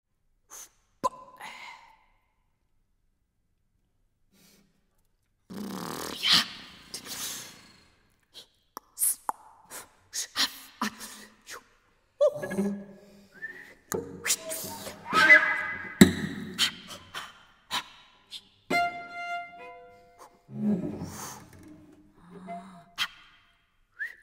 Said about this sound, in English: he experiments with different types of breathing noises and blends them with the conventionally produced pitch sounds